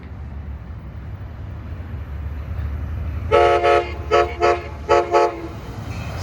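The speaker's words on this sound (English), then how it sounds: "Here comes San Joaquin train 710." Amtrak San Joaquin train 710, southbound with its cab car leading, passes through downtown Oakley and sounds its horn in four loud blasts, two long and two shorter, over a low rumble of the train.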